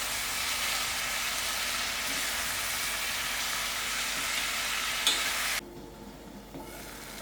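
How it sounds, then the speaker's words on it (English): Sour herbs (kanji keerai) and dhal cook in a covered pot, giving a steady, even sizzling hiss that runs throughout and then drops away abruptly near the end. "I'll give this a good stir and cover and allow it to cook for about 10 minutes."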